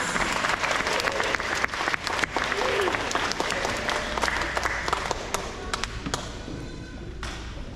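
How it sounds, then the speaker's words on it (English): An elementary school audience applauds students at an awards assembly: lively, continuous clapping with some sharp individual claps standing out, faint voices mixed in, and the applause thinning toward the end. "So let's give all of them a round of applause"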